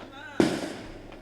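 A single sharp firecracker burst cracks out at a temple drama near Aranthangi, a loud close bang that trails into a brief decaying rumble.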